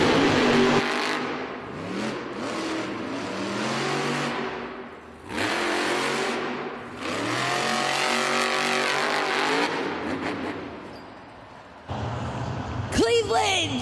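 Monster Jam monster trucks racing in an arena in Cleveland, engines revving and roaring in long surging bursts with crowd noise, under a loud announcer's commentary.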